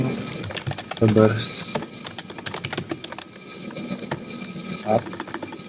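Rapid clicking of a computer keyboard being typed on, steady and close, continuing under a voice talking throughout.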